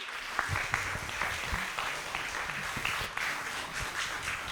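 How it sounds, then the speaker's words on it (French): An audience claps for a contestant at a children's holiday competition semi-final, a moderately distant, steady patter of applause with some sharper individual claps and no talking. "Applaudissements encore pour la candidate"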